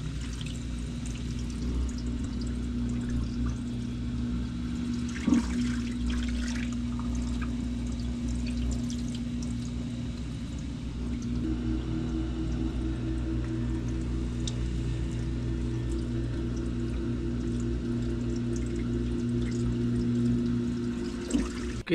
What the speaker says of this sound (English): Yeah, more water draining out now.